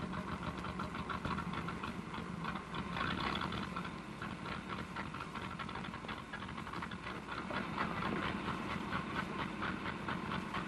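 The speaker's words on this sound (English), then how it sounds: "Boy, this engine sure is missing." A struggling engine in a 1935 car runs continuously, a dense rumbling drone with uneven, stuttering pulses throughout, fairly loud and steady with no voices.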